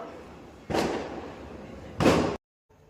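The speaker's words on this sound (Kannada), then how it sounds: "ಪಟಾಕಿ ಹೊಡಿತಿರೋದಕ್ಕೆ ನಮ್ಮ ಸಿರಿ ಅಂತೂ ಫುಲ್ ಹೆದರ್ಕೊಂಡ್ಬಿಟ್ಟಿದ್ದಾಳೆ." Two firecrackers burst during Deepavali celebrations, each a sharp, loud crack with a brief noisy tail, spaced about a second apart over a low background hum, followed by a short silence.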